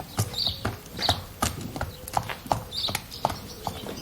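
A horse's hooves clip-clop in an uneven rhythm on a hard surface nearby at a farrier's, with occasional faint snorts and shuffling.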